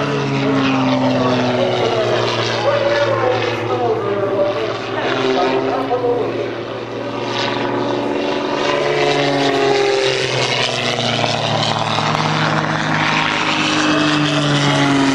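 A propeller aircraft flies a hammerhead turn at the EAA Oshkosh AirVenture 2008 airshow, a loud, sustained droning engine roar with shifting, sweeping tones as the plane climbs, pivots and comes back around.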